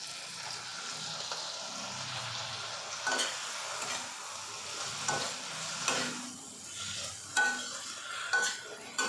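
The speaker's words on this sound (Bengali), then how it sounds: "এবার একটু টমেটোটাকে ভাজা ভাজা করে নেবো নাহলে কাঁচা গন্ধ থাকবে" Tomato frying in oil in a pan for a tilapia and taro fish curry, a steady close sizzle with repeated scrapes and clacks of a spatula stirring, no voices.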